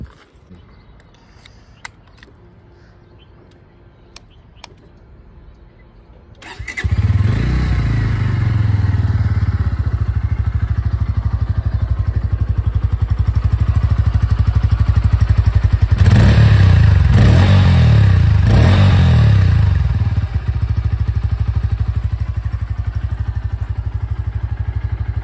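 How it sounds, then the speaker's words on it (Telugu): A Bajaj Pulsar N150 motorcycle idles quietly with a few clicks, then starts with a sudden loud roar and settles into a steady, close idle broken by a burst of throttle revs. "ఫస్ట్ ఆఫ్ ఆల్ మనం పల్సర్ N150 అయితే స్టార్ట్ చేసి సౌండ్ బీట్ అయితే విందాం."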